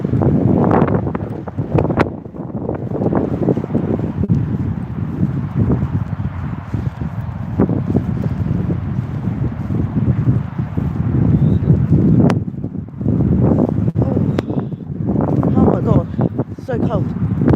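Strong wind buffets the microphone in heavy, roaring gusts, with someone talking through the blustery noise.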